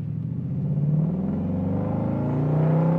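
A Dodge Durango RT with a 345 Hemi V8 revs under acceleration, a deep steady engine drone that rises in pitch, dips at a shift, then climbs again, heard close from inside the vehicle.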